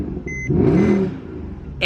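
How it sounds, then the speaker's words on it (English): A Mercedes AMG starts with a short chime, then the engine fires and the exhaust swells into a brief, loud roar before settling to a deep idle. "Go ahead and fire this bad boy up. Dude, the exhaust on this is actually ridiculous."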